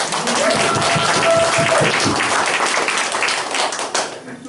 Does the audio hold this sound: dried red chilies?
no